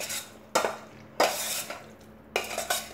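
Spoon scraping and clattering in a pan as dry spices like amchur and mint powder are stirred into masala tinda, three bursts of metallic stirring close by, with no talking.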